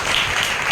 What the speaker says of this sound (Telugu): చప్పట్లతో దేవుని